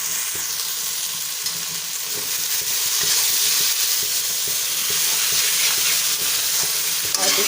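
Drumstick leaves frying with tomato and potato in a pan, steady close sizzle with stirring scrapes running throughout, no voices.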